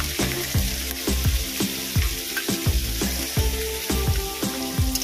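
Onions sizzle loudly in a hot pan alongside shrimp for a pui saag chorchori, with a steady crackle and regular scraping strokes of stirring, and no talking.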